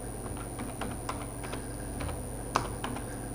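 Typing on a computer keyboard to log in to a Google account, with a quick run of light, close key clicks and one sharper keystroke near the end over a steady hum.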